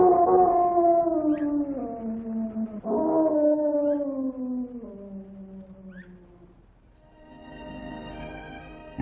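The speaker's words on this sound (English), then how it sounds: "the red wolf's lonely howl in the wild exists only on film" A red wolf howling in the wild, several long, mournful, sliding howls one after another, clear and fairly close with a quiet backdrop.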